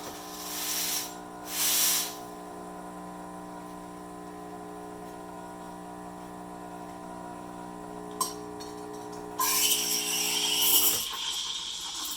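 Steam wand on a Nuova Simonelli Oscar heat-exchanger espresso machine hisses in two short bursts, goes quiet under a steady machine drone, then returns with a longer, louder hiss as milk is steamed.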